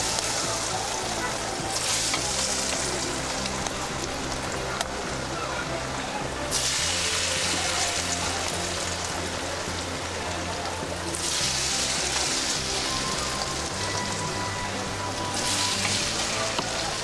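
Masala wada, lentil fritters, deep-frying in hot oil over a medium flame, a continuous dense bubbling sizzle with loud surges and lulls throughout and no voices.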